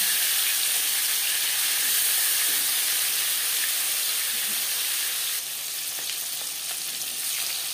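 Rui fish fries in hot oil in a pan, giving a steady, loud, continuous sizzle and hiss that carries on without pause and eases slightly toward the end.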